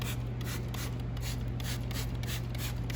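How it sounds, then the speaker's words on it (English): Iron remover sprayed into the barrels of car wheels during a deep wheel clean, heard as repeated short hissing spray bursts in a steady rhythm, close and fairly quiet over a constant low hum. "We're going to spray it into the barrels"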